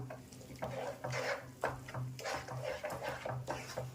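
Raw grated potato mixture being stirred steadily in a pan over medium heat: repeated close scraping and soft knocks of a spoon on the pan in an even rhythm, with no talk.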